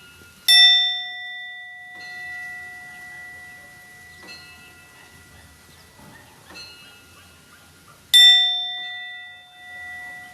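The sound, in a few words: singing bowl struck and ringing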